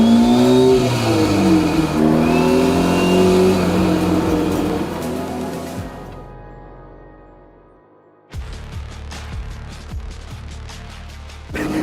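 An Ariel Atom 4 fitted with a Civic Type R K20C1 engine revs hard and loud for several seconds, its pitch climbing and falling. The engine fades to near silence, then a rattling, clattering noise starts.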